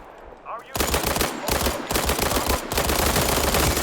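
MPX submachine gun fire in the video game World War 3, loud close rapid automatic bursts rattling almost continuously with a few brief breaks between strings of shots.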